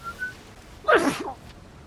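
A single short, sharp human sneeze bursts out near the middle, close and fairly loud, after a brief faint whistle-like tone, with no talk.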